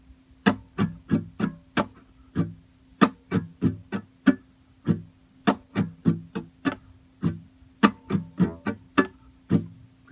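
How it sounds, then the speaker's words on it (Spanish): Acoustic guitar strummed without any chords fretted, a steady rhythmic pattern of percussive muted strokes and clicks over about ten seconds, close and moderately loud with no voice. "Ahora el rasgueo sin acordes sería este."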